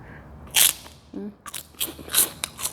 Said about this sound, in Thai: มาเลยแคบหมูกรอบๆเลยเหมือนนี่นะ